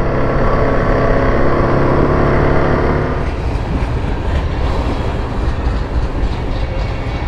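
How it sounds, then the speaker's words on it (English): A train passes close by, loud and steady: a deep rumbling drone gives way to the rhythmic clatter of wheels on rails. "might even see a train go by"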